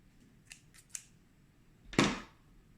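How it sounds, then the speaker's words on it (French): Scissors snip crochet yarn at the end of a bikini top, with a couple of faint handling clicks followed by one sharp, close cut against a quiet background. "on va venir couper un petit bout de fil."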